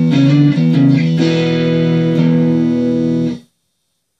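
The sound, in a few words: guitar playing a riff with open E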